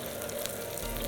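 Crab rangoon fry in hot oil, a steady soft sizzle and crackle with no one talking over it.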